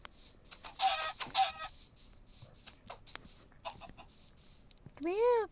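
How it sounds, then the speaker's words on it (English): Minecraft chicken clucking in the video game, several short bursts spread over a few seconds, with game sound effects around them and a rising, warbling cry at the end. "Chicken, finally!"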